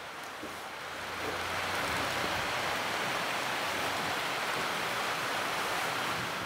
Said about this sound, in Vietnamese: buổi chiều ngày nay là trời rất là mưa rồi à